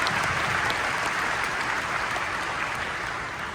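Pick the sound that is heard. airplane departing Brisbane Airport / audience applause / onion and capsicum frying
audience applause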